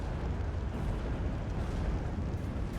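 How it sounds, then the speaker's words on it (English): Counter-battery artillery fire in the WWII strategy game Steel Division 2, a low continuous rumble of far-off shell impacts and gun blasts, steady and fairly faint with no clear individual shots. "Going for the artillery here. Really trying to counter battery."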